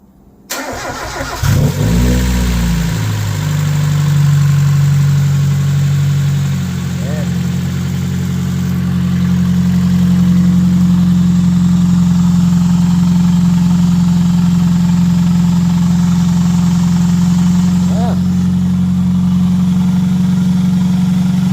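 A Mazda Miata NA engine cranks briefly and catches after a valve cover gasket reseal, then settles into a loud, steady idle with a couple of small blips, with a voice heard over it.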